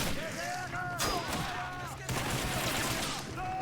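Gunfire from a Men of War battle game, with one sharp shot near the one-second mark and a second around two seconds, set against a busy bed of battle noise and music.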